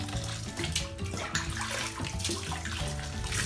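Water poured from a cup while rinsing off in a bathtub, a close, continuous splashing and trickling with uneven gushes, fairly quiet and with no voices.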